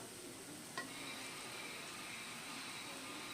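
Washed, cut okra frying in a pan gives a faint, steady sizzle, with a single brief clink of stirring early on and no voices.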